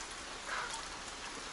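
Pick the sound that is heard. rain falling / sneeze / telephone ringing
rain falling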